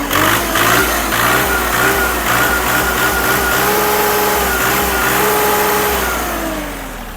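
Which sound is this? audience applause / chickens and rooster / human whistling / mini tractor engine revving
mini tractor engine revving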